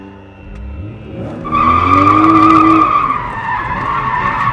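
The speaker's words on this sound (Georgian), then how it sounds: "ეხლა ვცადოთ პირიქით დონატი." A BMW X3M drifts through a reverse donut, its tires skidding in a long, loud squeal over a revving engine that rises and holds up close.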